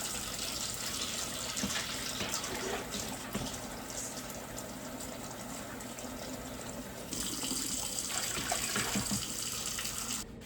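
Water runs steadily from a tap into the bottom of a canner being readied for canning pinto beans, a continuous close, even rushing splash that swells slightly louder near the end.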